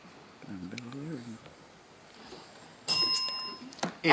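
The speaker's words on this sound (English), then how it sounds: "The bell came" A quiz show answer bell at a televised school challenge quiz rings out as a bright, loud ding with lingering harmonic tones near the end of the moment, following quieter murmurs and a brief voice earlier.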